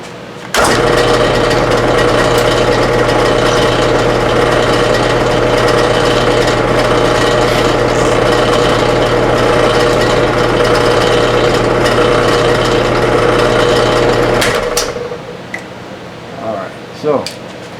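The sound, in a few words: drilling a hole on a milling machine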